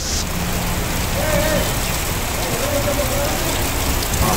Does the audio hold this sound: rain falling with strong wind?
yes